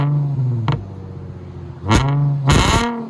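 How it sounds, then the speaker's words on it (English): A Nissan 350Z with a 3.5L V6 and straight pipes idles with a steady low drone, then gives two sharp, loud throttle blips, close by. "Rev it! See how loud it is?"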